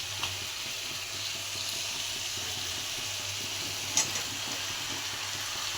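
Chicken frying in a pan with a loud, steady sizzle and hiss as pre-fried potato and jackfruit are added, with a brief clatter near the end.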